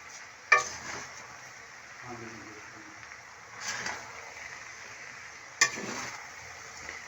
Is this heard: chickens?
no